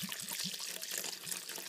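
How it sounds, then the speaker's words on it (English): Whiskey glugs and splashes as it is poured from a bottle, a steady close gurgling stream lasting throughout with no talking. "So let's start by pouring half the whiskey out of the bottle"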